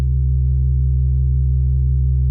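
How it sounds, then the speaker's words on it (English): Two sine waves, tuned close together and detuned very slowly, form a loud, steady low drone with a smooth unbroken tone from start to finish. "that's already a beautiful dance you can do with 2 sine waves and only playing with the tuning, super slow."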